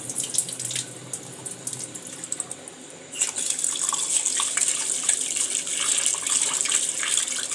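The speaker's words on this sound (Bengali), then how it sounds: "চালটা 2 বা 3 বার আমি ধোবো, যতক্ষণ সাদা জলটা পরিষ্কার না হচ্ছে।" Rice is washed under running tap water until the water turns clear, with a steady splashing stream close by that gets louder and busier partway through.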